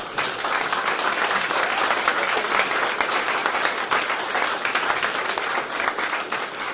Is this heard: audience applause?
yes